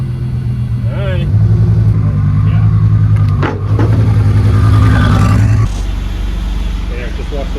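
A Mitsubishi Evo X with a rebuilt blown engine drives along, its motor droning loud and close with rises in revs and a drop near the end, while people talk over it.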